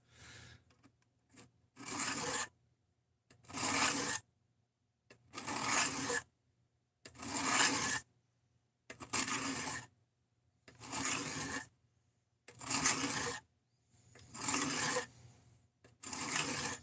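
Grinding a bevel onto a cheap Amazon knife: about eight regular, evenly spaced rasping strokes, each roughly a second long with short silent gaps between, close up and moderately loud.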